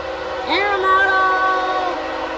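A BNSF intermodal freight train passes a crossing at Camp Road in Moreland, Georgia, sounding a loud sustained multi-tone horn chord that swells quickly, holds steadily, then fades, heard close and clear above a low rumble.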